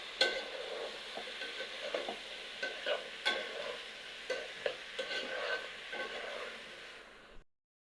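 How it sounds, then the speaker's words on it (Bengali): Vegetables, including eggplant, are sautéed in a pan for a Bengali mixed vegetable curry with fish, giving a steady sizzle with scraping stirs and light clinks of a spatula throughout, close and moderately loud, no talking. "এগুলোকে এখন কষাতে হবে।"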